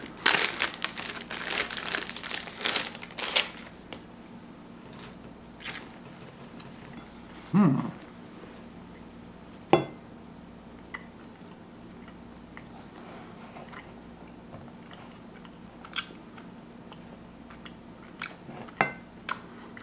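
A chocolate chip brownie is unwrapped and eaten: loud wrapper crinkling at first, then sparse crunchy bites and small clicks close by in an otherwise quiet room.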